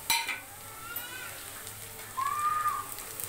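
Browned onions and torn green chilies frying in a pan, a soft continuous sizzle with a utensil knock at the start, while a voice speaks over it.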